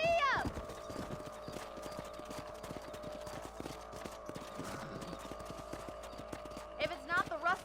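Horse hooves clip-clopping at a steady trot in the Red Dead Redemption video game, a close, rhythmic clatter that runs throughout, with a horse's whinny near the start and end.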